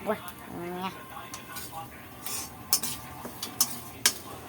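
A spoon stirs masala pori, a spiced puffed-rice snack, in a metal vessel. Light scraping is broken by several sharp metallic clinks toward the end, with a soft sizzle and a faint voice early on.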